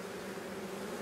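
A constant close drone of honeybees swarming over an open, queenless hive being inspected, thick and even with no voices.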